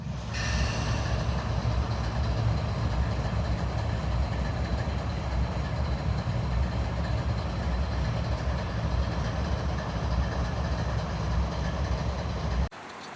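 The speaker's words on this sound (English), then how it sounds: "As Amtrak 91 approached Wabash Avenue, this would mark the last train on this trip." Amtrak 91 nears Wabash Avenue in Lakeland, Florida, a steady loud rumble of rolling train wheels and engine with a horn-like tone at the start, cutting off abruptly near the end.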